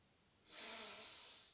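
A single long, steady exhale during a lateral-raise strengthening exercise, a close breathy rush of air that lasts about a second over a quiet background.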